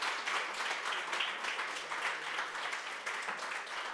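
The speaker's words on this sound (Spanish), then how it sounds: "¿Le puede dar otro fuerte aplauso al Señor en esta tarde?" A church congregation applauds during an afternoon service, a dense, fairly faint patter of many hands clapping steadily for a few seconds.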